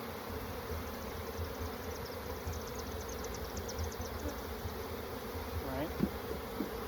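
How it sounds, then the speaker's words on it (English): Honey bees buzzing during a hive inspection, a steady, dense hum of many insects close by, with a few brief knocks and handling sounds near the end. "There's fewer bees, fortunately."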